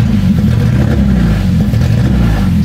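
A car engine with a missing injector connection, still misfiring, runs loud and close with a rough, uneven low rumble while it is revved and struggles to hold speed.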